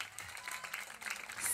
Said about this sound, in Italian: un altro applauso all'ultimo gruppo della serata